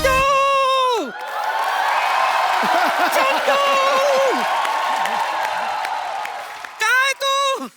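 Studio audience on a Hindi comedy talk show breaks into loud applause and cheering after a voice calls for it, with whoops rising over the sustained clapping before a couple of short shouted voices at the end.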